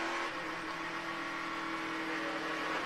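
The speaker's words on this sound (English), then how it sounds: "That you hear the car still running." A race car engine on the track at the 2011 Kansas Lottery 300, still running steadily after an ignition problem, with a continuous mid-pitched whir and hum, fairly loud and unbroken.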